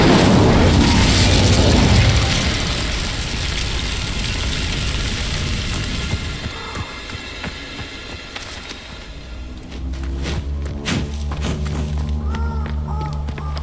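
A fire spell erupts in Hogwarts Legacy as a loud, booming whoosh of flame that fades into rumbling game ambience, with sharp clicking and crackling impacts following later.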